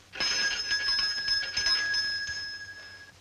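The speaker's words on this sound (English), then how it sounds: "Sounded like a bell coming from somewhere." A bell rings somewhere nearby, a sustained bright metallic ringing that starts abruptly and holds steadily for about three seconds before fading, with no talk over it.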